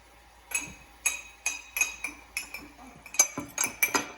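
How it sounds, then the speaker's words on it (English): A fork stirs dry mug cake batter of flour and cocoa powder inside a mug, giving about eight close, crisp clinks against the sides in a steady rhythm. "And then their tool they're going to use is just a fork. They're going to stir this around."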